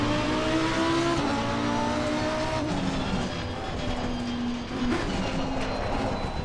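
Race cars begin a rolling start in the racing game Assetto Corsa Competizione. A steady, loud engine drone holds throughout, its pitch rising and shifting as the field accelerates together.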